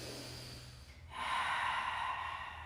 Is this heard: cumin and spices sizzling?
no